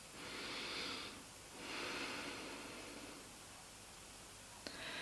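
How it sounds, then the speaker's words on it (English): A person draws breath in through the nose twice, with two soft, airy sniffing inhales of about a second each, close and fairly quiet with a pause between them and no talking. "it's easier to start by breathing in through your nose"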